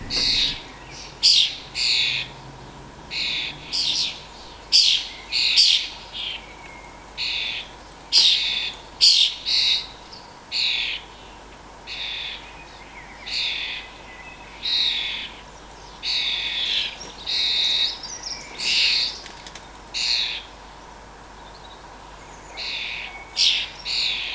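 A flock of starlings calling in a frenzy around a coconut, repeated bursts of shrill chattering and squawking calls coming in rapid clusters with short pauses, fairly close and lively, no talking.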